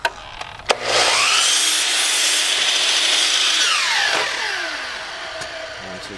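A power saw whines up and cuts steadily through a wooden piece set against a stop block for about three seconds, then spins down, loud and close, with no talking.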